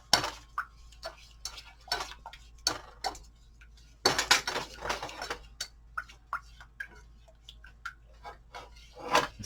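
A spoon stirs keto pecan pie cheesecake filling in a bowl, giving repeated sharp clinks and scrapes against the sides, close and fairly loud, in an uneven rhythm with a busier burst midway.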